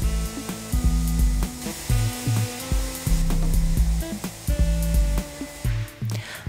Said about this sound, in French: on réalise un ponçage au diamant avec une machine spécifique